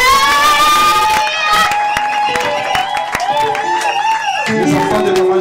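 Church congregation acclaiming with a swell of cheering, ululating voices and scattered clapping, loud and close, sustained for several seconds.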